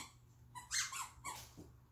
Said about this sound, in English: You will have to excuse all of the squeaking because the dogs are still playing with the stuff that they got in the bark box